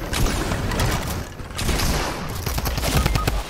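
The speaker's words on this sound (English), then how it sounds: "Oh, he had the Tommy gun." Rapid bursts of Tommy gun fire in an online battle-building shooter game, with dense crackling volleys and short gaps between them, loud and close, with no talk.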